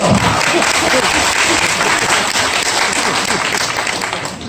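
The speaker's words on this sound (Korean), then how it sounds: "박수 한번 쳐주세요." Audience at a Korean forum on quality jobs for seniors applauding in a dense, steady burst of clapping that fills the room and slowly fades toward the end.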